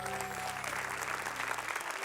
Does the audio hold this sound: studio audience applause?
yes